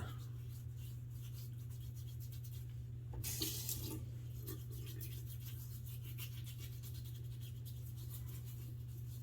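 A bathroom tap runs while someone wets their face during a wet shave, a faint steady trickle over a low hum, with a brief louder splash about a third of the way through, and no talking.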